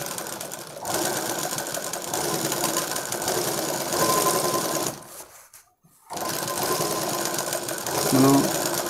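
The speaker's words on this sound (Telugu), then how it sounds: "మనం కొంచెం స్లోగా కుట్టుకోవాలి" A sewing machine stitches piping onto a blouse neck, a close, continuous mechanical whirring and rapid needle chatter that drops out briefly midway before resuming at the same steady pace.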